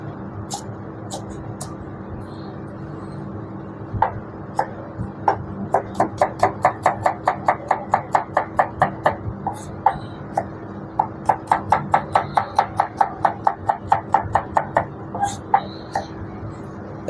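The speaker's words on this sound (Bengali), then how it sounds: "আমি এখন এই যে ভেজিটেবলগুলো কেটে নেব" Knife chopping mixed vegetables for a continental-style salad on a cutting board: rapid, evenly spaced cuts in two long bursts, crisp and close, over a steady low background hum with no talking.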